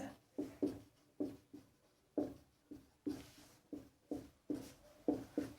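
A teacher writing out a maths solution, chalk or marker tapping and scraping in short repeated strokes with brief pauses, close and fairly quiet.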